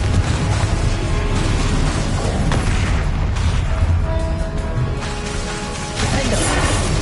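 Confringo spell explosions in Hogwarts Legacy during combat, a dense, continuous roar of booms and crashes with layered magical effects, loud and close throughout.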